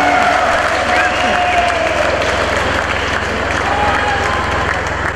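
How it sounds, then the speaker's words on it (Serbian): A crowd at an award ceremony gives steady, loud applause for a folk singer, dense clapping mixed with faint cheering and crowd noise throughout. "molim vas jedan veliki, veliki aplauz za nju"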